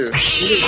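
A cat meows in a film excerpt, one short close cry that rises and holds, while a person starts to speak over it.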